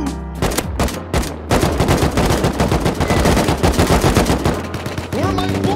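Rapid bursts of gunfire in the Rust video game, close and loud, with dense overlapping shots that run almost nonstop and a short break near the start.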